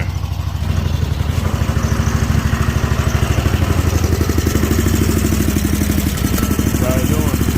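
Loud, close engine of a Snapper Pro 48-inch zero-turn lawn mower with partly clogged carburetors, running rough with rapid, uneven chugging pulses throughout.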